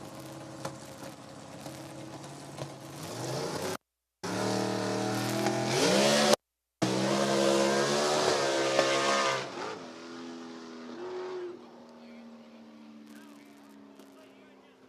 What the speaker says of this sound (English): Dragster is going to go by himself.